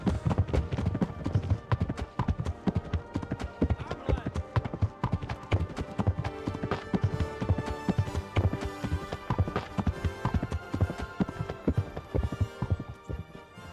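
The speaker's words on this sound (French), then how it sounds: "le bruit des sabots qui est un peu fort là" Horse hooves clip-clop rapidly and loudly in the video game Kingdom Come: Deliverance, a dense trotting rhythm layered with game music and in-game character voices.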